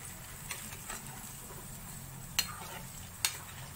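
Mutton pieces fry in hot oil with a soft steady sizzle, while a metal spoon stirs and scrapes the pan, giving a few light clicks and two sharper clanks.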